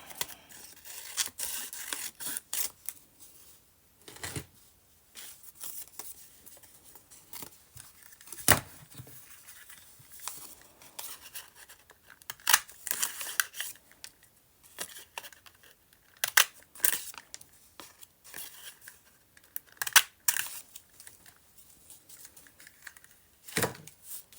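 Scissors cutting out paper pieces for a journal, irregular close snips and paper rustles in scattered bursts with quiet gaps between them.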